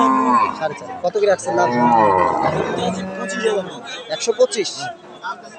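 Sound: cattle mooing at Ambari cattle market

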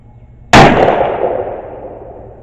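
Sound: gunshot fired at a playing card target

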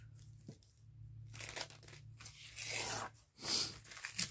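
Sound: trimming paper for a paper bag

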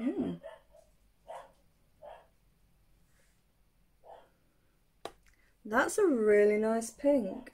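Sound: dog barking

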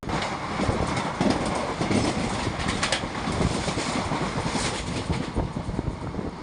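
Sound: train moving fast on rails

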